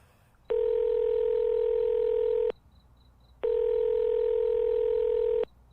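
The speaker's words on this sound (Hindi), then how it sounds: "वो आस्था को कॉल करता है।" Two long, steady beeps of a phone dialing tone in a Hindi horror audio story, each about two seconds with a pause between, clean and alone.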